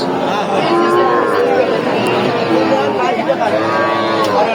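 Sahiwal breed bull calves at a busy cattle market, with several drawn-out moos rising over a dense crowd of talking voices, loud and continuous.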